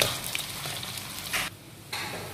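Onions sizzle in hot oil, a close, steady crackling hiss that briefly drops away near the middle before the frying noise returns.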